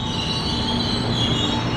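A KRL commuter train runs past at a station near the airport rail line in Jakarta, a steady loud rumble overlaid with a sustained high metallic wheel squeal on the rails, continuous throughout.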